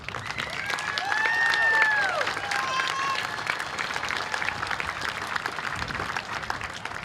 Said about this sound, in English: Let's give him a round of applause as he gives us his opening